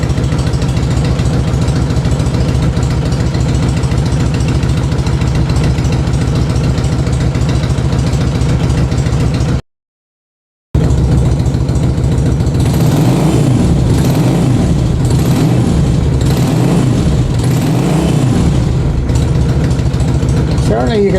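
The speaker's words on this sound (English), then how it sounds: "I like the engine note." A 2000 Honda VT600C motorcycle engine idles with a steady low rumble, then revs up and down several times near the microphone after a brief dropout.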